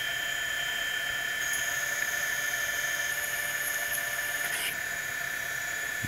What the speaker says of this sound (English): you start with a shorter drill and then go to a longer drill